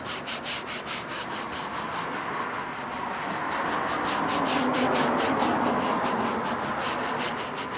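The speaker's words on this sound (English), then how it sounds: "work again with the soft brush" A soft brush scrubs the fabric soft top of a convertible that is being cleaned with household products, making a steady, close rasping rub with quick, regular back-and-forth strokes that swell slightly louder midway.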